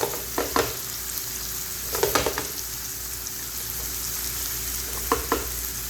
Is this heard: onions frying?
yes